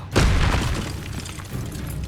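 A spell blast in Hogwarts Legacy, Bombarda or Confringo, bursts as one loud booming explosion with a sharp onset, then fades into a rumbling, crackling tail.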